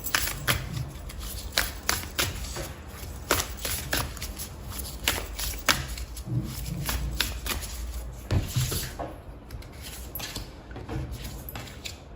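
Tarot cards shuffled by hand in a steady, close run of riffling and sliding bursts with sharp taps between them, continuing alone for about twelve seconds.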